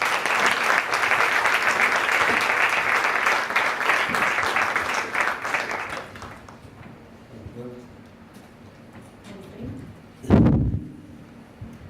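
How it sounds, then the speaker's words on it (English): Loud, sustained audience applause at a business event fills the first six seconds, then fades into quieter room sounds with a brief thump near the end. "Please give them a round of applause."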